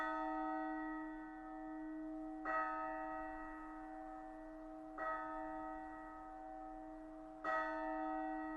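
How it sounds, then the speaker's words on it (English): Great castle bell in the video game Lost Odyssey ringing as an emergency assembly signal, with three evenly spaced, resonant strikes about two and a half seconds apart over a steady sustained hum. "From the direction of the castle comes the sound of the great bell. An emergency assembly signal to the soldiers patrolling the streets."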